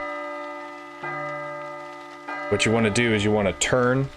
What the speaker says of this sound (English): Once it starts chiming, do not move.